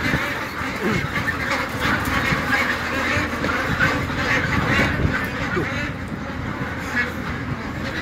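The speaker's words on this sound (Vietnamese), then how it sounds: "Cầm cả đội quân hàng vạn vịt." A huge flock of farmed ducks, tens of thousands strong, quacking in a dense, continuous clamor that fills the whole stretch without pause.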